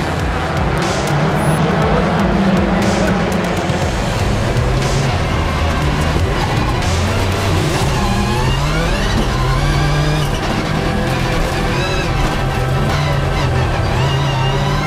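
Subaru race cars compete on a tight, twisting track, their engines roaring loud and continuous with rising and falling revs as they jostle through corners, a steady dense motor drone throughout.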